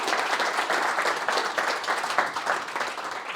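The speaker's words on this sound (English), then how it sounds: "Let's give him a round of applause." An audience at a tech conference talk gives a speaker a brief round of applause, a steady crowd of clapping heard close throughout with no talk.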